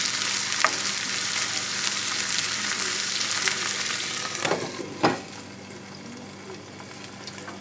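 Wild burdock root sizzles as it is stir-fried in a pan, a steady close frying hiss broken by a few sharp scrapes and clatters of the spatula, with no talking.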